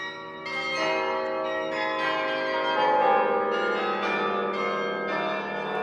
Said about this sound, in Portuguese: nos monumentais carrilhões encomendados pelo rei magnânimo para as suas torres